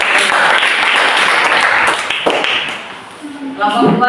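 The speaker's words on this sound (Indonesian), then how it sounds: "tepuk tangan untuk kelompok 1." A classroom of students claps for a group that has just presented, a loud, close burst of hand clapping that tapers off near the end as a voice begins talking.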